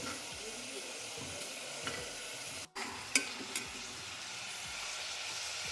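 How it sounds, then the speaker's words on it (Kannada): Mixed vegetables with fresh green peas frying in a pan, a steady sizzling hiss with stirring scrapes and a brief cut partway through, no talking. "ಎಲ್ಲ ತರಕಾರಿನೂ ಹಾಕಿದ್ದೀನಿ ಸೊ ಅದು ಚೆನ್ನಾಗಿ ಸ್ವಲ್ಪ ಫ್ರೈ ಆಗಲಿ"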